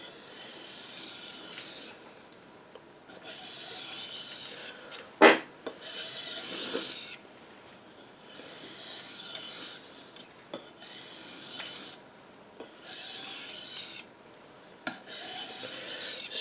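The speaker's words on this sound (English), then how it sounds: "give my stone a last rinse on that 1000 side and a few strokes into the edge" Knife blade stroked across a 1000-grit sharpening stone while putting an edge on a Newfoundland skinning knife: steady raspy scraping strokes in repeated bursts of a second or two with short pauses, close and clear, plus one sharp knock partway through.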